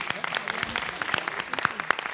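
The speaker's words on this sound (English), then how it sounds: "let's give a round of applause for all of the sisters" A room applauds the sisters who just presented at a Black Women Roundtable event, scattered close claps forming a brief, moderately loud round of applause.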